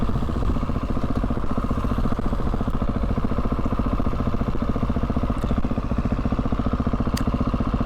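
A Husqvarna 701 supermoto single-cylinder engine idles up close, its steady, rapid thumping clatter running evenly for several seconds with no talk.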